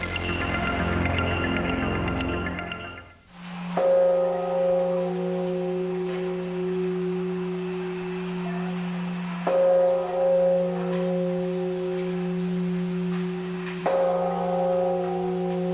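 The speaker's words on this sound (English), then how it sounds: "In Hiroshima, 40 years after the bomb, the bell in the Peace Park tolls for the dead." A large bell in the Hiroshima Peace Park tolls for the dead, with three deep, ringing strikes at spaced intervals, each sustained hum fading slowly before the next, after a brief burst of other sound at the start.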